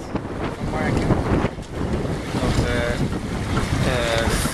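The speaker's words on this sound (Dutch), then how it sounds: "Mooie wind. Half wind zo'n beetje." Steady wind rushing past a sailboat under sail with the engine off, heard as a constant loud roar with wash of water and faint tonal whines drifting in and out, no voices.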